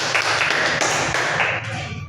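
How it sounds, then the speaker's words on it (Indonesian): A classroom audience claps for a student in a dense burst of applause that holds steady for about two seconds, then stops abruptly. "kita berikan aplaus kepada anak Atri yang sudah memberikan kesimpulan untuk kita hari ini"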